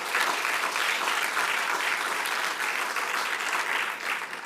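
A school ribbon-cutting audience applauds in a steady, dense wash of many hands clapping together, sustained and fairly loud from start to finish with no voices standing out.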